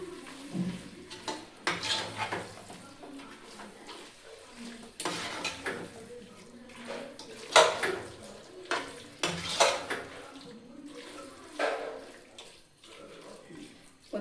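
Chicken biryani masala sautés in a pot while a metal spoon stirs and scrapes, giving repeated clanks and clinks against the vessel over a soft sizzle. The sound is fairly quiet and close, with brief speech here and there.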